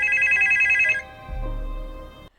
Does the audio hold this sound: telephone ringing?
yes